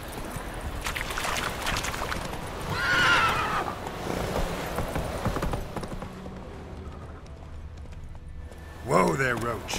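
Roach, the horse in The Witcher 3, whinnies and clip-clops at a gallop, hoofbeats running steadily beneath a bright neigh near the start and another sharp whinny at the end, with game sounds and a voice over the top.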